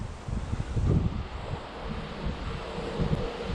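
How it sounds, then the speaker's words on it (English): Strong wind blowing outdoors in a yard, a steady broadband roar with gusts swelling and easing, buffeting the microphone with low rumbles; no talking. "With all this wind we going"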